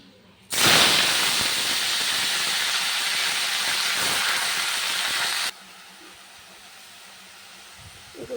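Red amaranth greens hit hot oil with fried peanuts and dry red chillies, setting off a sudden loud, steady sizzle that holds for about five seconds before cutting down to a faint simmer.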